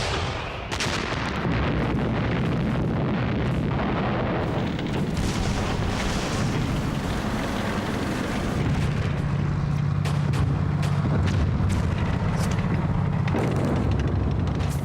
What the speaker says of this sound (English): On December the 16th, 1944, the Germans opened fire.